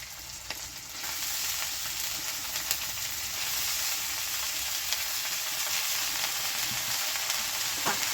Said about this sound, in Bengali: হালকা করে একটু ভেজে নেবে তাই তো হালকা একটু সর্ষে শাক